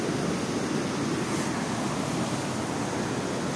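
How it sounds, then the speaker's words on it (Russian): A fast-flowing stream rushes in a steady, dense roar close to the microphone, constant and unbroken from start to finish, with no voices. "Не видно, конечно, ни хера, но чувствуете звук. Слышно, да? Вообще жестко течет"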